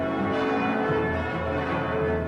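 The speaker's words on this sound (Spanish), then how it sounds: "El día amanece con el furioso repicar de las campanas." Church bells ring hard and continuously at dawn, a dense, loud, sustained clangour of overlapping tones with no pauses and no voices.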